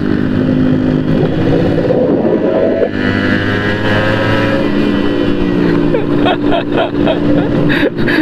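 A two-stroke motorcycle engine climbs uphill near Cikole, droning loud and continuous with shifting revs and a rising pitch, close to the rider, while a voice talks over it.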